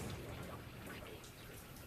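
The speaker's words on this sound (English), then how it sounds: "Those wind gusts really picking up." Steady wind and heavy rain roar as a hurricane passes close to Tampa, a dense, continuous wash of noise with gusty swells and no voices over it.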